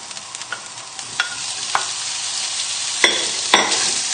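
Bacon sizzles and crackles steadily in a pan on high heat, a continuous hiss with a few sharper pops and spits scattered through it.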